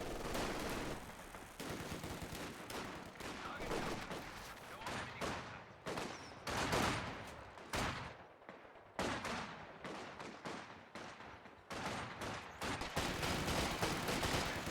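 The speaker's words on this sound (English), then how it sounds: "Nice usage here of volley fire." Volley fire in a World War II strategy game: dense, loud bursts of rifle and machine-gun shots crackle in rapid waves, with brief lulls between salvos.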